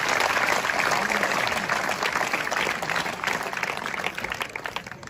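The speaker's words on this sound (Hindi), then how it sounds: "एक बार जरा जोरदार तालियां इन कार सेवकों के लिए।" A crowd at a Hindi kavi sammelan poetry gathering claps for kar sevaks, sustained loud applause from many hands that holds steady and fades slightly toward the end.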